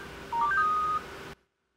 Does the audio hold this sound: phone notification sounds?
yes